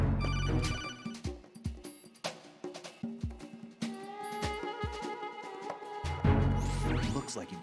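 The codec call ringtone from the video game Metal Gear Solid 2 chimes repeatedly in quick electronic beeps, loud and clear and layered over other game audio.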